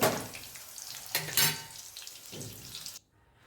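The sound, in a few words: potato yam pieces frying in oil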